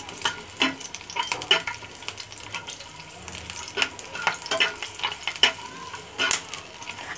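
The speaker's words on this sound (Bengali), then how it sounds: "এখন আমি এটা একটু ভেজে নিব। খুব বেশি ভাজবো না, হালকা করে।" Garlic and green chilies frying lightly in a pan, a soft sizzle broken by repeated scraping stirs and clinks at close range, with no talk.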